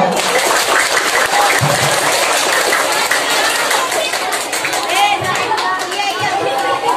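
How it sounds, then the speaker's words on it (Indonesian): Applause and cheering from a crowd of children at a police outreach talk in South Bekasi, dense and steady throughout, with chatter mixed in. "Tepuk tangan dong."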